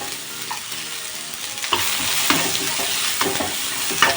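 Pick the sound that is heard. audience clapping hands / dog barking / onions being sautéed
onions being sautéed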